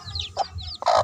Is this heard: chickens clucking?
yes